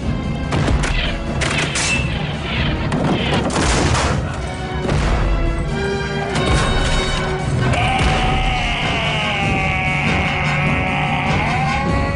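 A musket volley in a Robin Hood adventure series, a few loud cracks near the start, followed by crashing and a sustained musical tone, with no clear talk over it.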